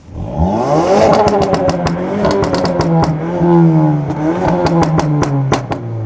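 A Ford Focus ST with about 430 horsepower revs its engine loudly and up close, the pitch sweeping up and down over several throttle blips with a rattly, crackling exhaust edge.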